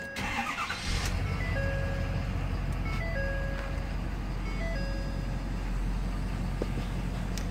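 Car engine cranks briefly and catches, then settles into a steady low idle; a few chiming electronic tones from the car sound over the running engine.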